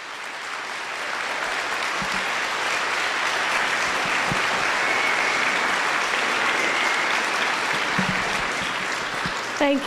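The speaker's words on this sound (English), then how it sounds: "Let's have a nice round of applause for Miss Jessica McGuire." A school Veterans Day assembly audience gives sustained applause for a student speaker, a broad, even roar of many hands that swells slightly and holds steady for several seconds, with faint voices toward the end.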